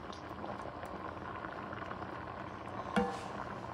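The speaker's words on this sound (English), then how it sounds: "Now that it's simmering, what I'm going to do, I'm going to reduce the heat to medium." Creole-style jambalaya simmering in a pot, a steady close bubbling and popping that runs unbroken throughout, with one slightly louder pop near the end.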